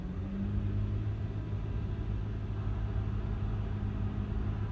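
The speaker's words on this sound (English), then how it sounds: "Now that the service is reset, time to fire it up. I'm just going to rev it up a hair here." A BMW E91 328i with the N52 engine gives a low, steady rumble nearby, without a distinct rise in revs and with no talking.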